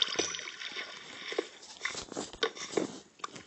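Running water in Minecraft Pocket Edition survival gameplay, a soft, continuous trickling and babbling flow with faint clicks, quiet and steady throughout.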